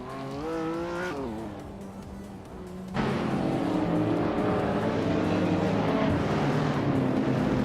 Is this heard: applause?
no